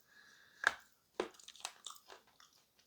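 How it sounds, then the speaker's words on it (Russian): Edible clay is bitten off a large piece: a sharp crisp crunch is followed by a second bite, then several smaller crumbly crunches as it is chewed, all quiet and close. "Ну, откусывается она средней, но опять же от большого куска."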